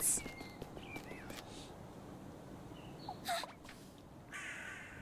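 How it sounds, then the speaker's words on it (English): Several crows caw in a woodland scene of the video game Little Goody Two Shoes, faint scattered calls over a quiet background. "There's so many crows."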